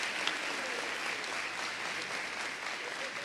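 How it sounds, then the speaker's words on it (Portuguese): A church congregation applauds the Lord during a Portuguese sermon, continuous, even clapping at moderate level with no break or talk, sounding like a full room. "você pode aplaudir o Senhor?"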